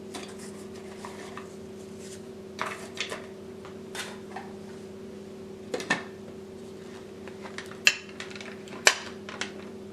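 Crackers being ground into crumbs in a prep bowl, heard as intermittent hard clicks and clatters over a steady motor hum, with sharper knocks toward the end and no talking.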